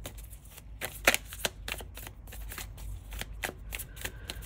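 Tarot cards are shuffled close by in quick papery riffles and soft flicks, with a few sharper card snaps along the way and no talking.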